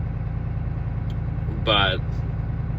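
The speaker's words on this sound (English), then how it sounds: "I just backed it to the end of my driveway and just letting it idle." Pickup truck idling in a driveway after a cold start, its engine holding a low, steady rumble throughout while someone speaks briefly partway through.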